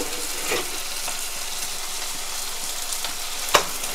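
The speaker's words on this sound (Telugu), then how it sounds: "ఓ పక్కన ఇది తాలింపు అవుతుంది, ఇంకా వేగాలన్నమాట" Tempering spices sizzling and crackling in hot oil in a kadai, a steady close frying hiss with a couple of sharper pops and stirring clinks.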